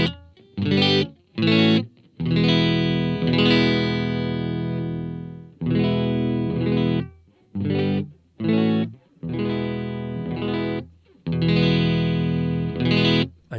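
A 1950s Stratocaster plays through a VOX Clean AmpPlug headphone amplifier as the tone dial is turned, giving short bursts of clean chords and ringing notes with gaps between phrases, loud and close with no talking.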